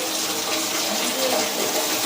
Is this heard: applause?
no